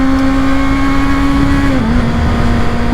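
A 2022 Kawasaki Ninja ZX-6R screams under hard acceleration, its loud rising engine whine dipping briefly in pitch as the quick-shifter snaps through a gear change without clutch, then climbing again.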